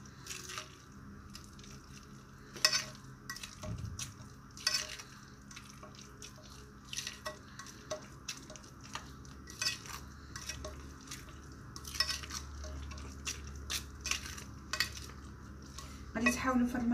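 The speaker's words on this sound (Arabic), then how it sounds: "صافي غنخلط مزيان" A spoon stirs a thick food mixture with a spoonful of starch added, scraping and clinking against the bowl in uneven bursts, with soft wet squishing and light kitchen clatter throughout and no talking.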